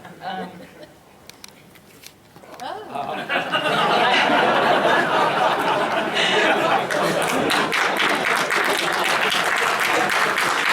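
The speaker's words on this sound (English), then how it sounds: "That gives an applause." An audience at a behind-the-scenes Smell-O-Vision presentation breaks into applause after a quiet start, building within seconds into loud, sustained clapping mixed with chuckles and chatter, a voice audible before and through it.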